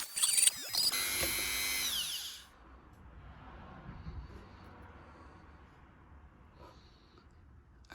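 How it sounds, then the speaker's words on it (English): A Dremel rotary tool sands a 3D-printed ASA coffee machine part. The high motor whine rises and falls for about two seconds, then cuts out, leaving faint handling noise and room quiet. "So now I found my Dremel. Let's try and take a little bit off."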